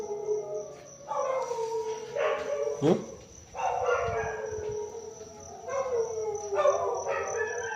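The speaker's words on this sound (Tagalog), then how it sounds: "Kasi pagdating ng alas 3, umaalulong yung mga aso" A dog howls at 3 a.m. in long, wavering wails, repeated several times with short pauses between, fairly close.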